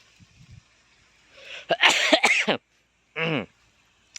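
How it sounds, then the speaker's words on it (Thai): One loud, explosive sneeze outdoors by a fish pond, followed by a brief voiced sound afterward. "จามครับ"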